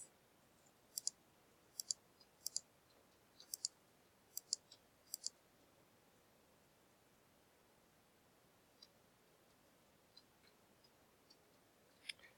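Faint, crisp computer mouse clicks at an irregular pace, single and double taps scattered through a quiet room, with longer silent gaps later on.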